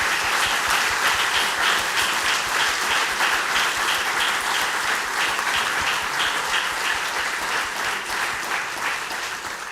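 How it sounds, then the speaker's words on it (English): Dense, loud applause from a large audience at a formal speech event honoring Kosovo's president, steady clapping that fills the hall and tapers slightly toward the end. "I also want to have a little applause for the assistants who made this possible"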